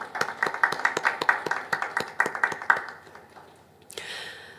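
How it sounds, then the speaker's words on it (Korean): A church congregation claps together at a 41st-anniversary worship service, with a steady run of sharp, evenly spaced hand claps that fade, then a brief brighter burst near the end. "박수 보내주시죠"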